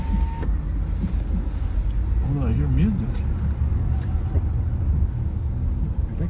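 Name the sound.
music playing from a car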